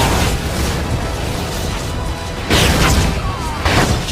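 A cannon hit explodes in the video game Astra Knight of Veda, a loud, dense booming blast over continuous noisy game audio, with a second heavy impact surging partway through.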